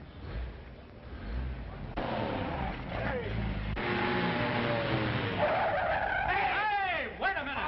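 A car skids with tires squealing in rising and falling sweeps over a rough engine roar, loud and close, while someone shouts over the scene.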